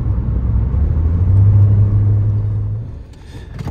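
A Scion xB on a test drive while being checked for a suspected transmission problem, its engine and road noise a loud steady low rumble inside the car that holds, then eases off and drops near the end.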